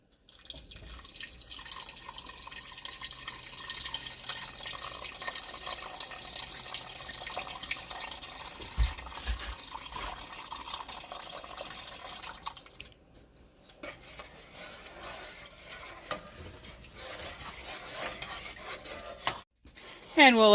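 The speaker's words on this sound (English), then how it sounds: "we are going to add in some beef broth and make this a little bit soupier" Beef broth is poured into a pot of taco soup packed with ground beef and other ingredients, then stirred. A steady liquid pour and splashing run for about twelve seconds, then softer stirring and scraping in the pot, close and moderately loud.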